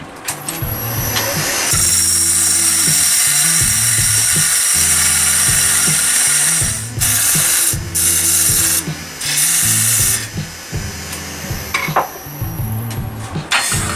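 Liquidambar wood nutcracker spinning on a lathe as a shoulder is turned to seat a rubber piece, a loud steady whirring hum with scraping tool bursts and brief pauses, close and continuous without talk.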